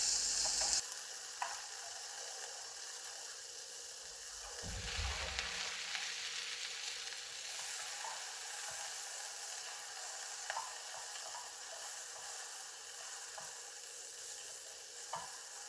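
Chicken, peas, corn and onions sizzling and being stirred in a wok, a steady close frying hiss with occasional spatula scrapes and clicks and a brief louder stir partway through, no voices.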